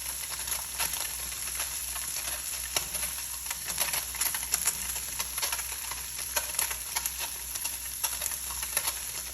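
Tofu browning in a touch of oil in a pan over a low flame, giving a steady, close sizzle with scattered crackles and pops throughout, no voices.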